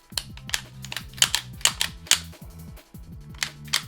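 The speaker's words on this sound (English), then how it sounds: "one thing that I've been doing since I got this gun is just kind of racking the slide to try and work it in" The slide of a new Springfield Prodigy 1911 9mm pistol racked repeatedly to break it in: a steady series of close metallic clacks, each a sharp snap of the slide running back and slamming forward, with no voices.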